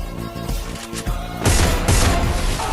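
Woodpecker gun in the Free Fire video game firing in loud, dense bursts, with a sharper, heavier volley breaking out in the second half and carrying on to the end.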